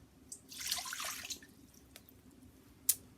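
280 grams of water splashes briefly into a container for ciabatta dough, a soft pouring burst followed by a few quiet drips in a hushed room.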